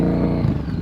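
Motorcycle engine at slow riding speed during an advanced slow-speed practice session, a steady close low rumble with slight revving fluctuations.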